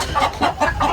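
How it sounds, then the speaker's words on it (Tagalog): Small chicks chirping in quick, close bursts, loud and alone. "May sisiw lang tayo maliliit."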